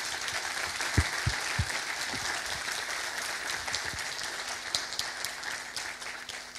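A conference audience at the official opening of the 52nd ASRDLF colloquium in 2015 claps for the four organisers, a steady, even wash of applause from a seated crowd with a few sharper nearby claps.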